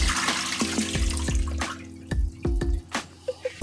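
Hot water is strained off peeled vegetables in a home kitchen: a brief gush of pouring water, then a run of sharp, separate drips and splashes that thin out toward the end, close by.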